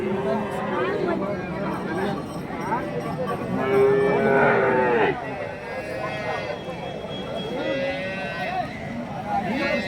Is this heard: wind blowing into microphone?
no